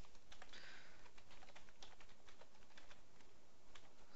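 A password typed on a computer keyboard during a Windows login, a quick, close run of light key clicks with uneven rhythm over a quiet room, no speech.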